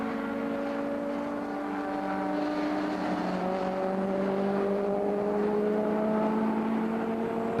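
A historic BMW race car at Silverstone drives past with a steady engine drone whose pitch slowly shifts. Several overlapping engine tones blend with broad road and wind noise at a fairly even, moderate distance.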